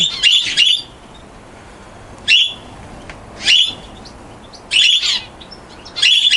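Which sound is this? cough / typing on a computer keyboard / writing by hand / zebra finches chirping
zebra finches chirping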